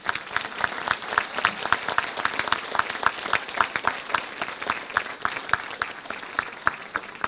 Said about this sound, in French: Merci donc à toutes et à tous de bien vouloir applaudir Rosine Paté.